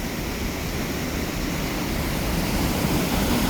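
Water pours down Little Mashel River Falls in a steady, loud broadband rush with a misty spray close by.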